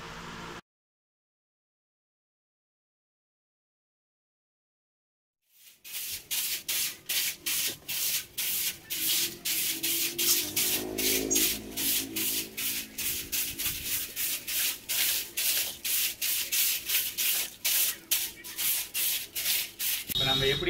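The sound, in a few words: homemade plastic bottle broom sweeping away cobwebs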